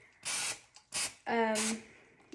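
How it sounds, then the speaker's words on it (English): Three short hissing bursts of cooking spray onto a baking pan, close and loud, separated by brief pauses, with a faint voice in between. "when you spray your pan, make sure you get the bottom and the sides"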